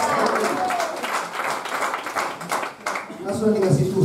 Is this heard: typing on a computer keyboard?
no